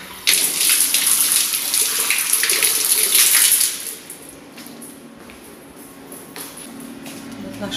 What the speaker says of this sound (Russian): отсюда мы берем воду. Такая вода здесь